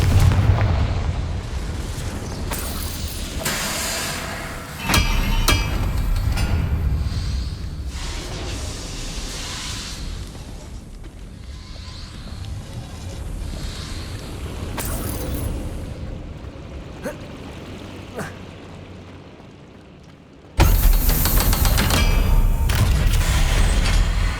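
A Confringo fire spell bursts in Hogwarts Legacy, with heavy booming explosions, clanging impacts and a rumbling fiery wash that fades mid-clip and slams back loud near the end.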